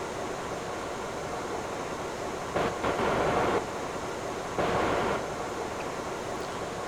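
A subway train in a Roblox game arrives and slows, a steady rumbling rail noise with two brief louder surges, heard alone without talk.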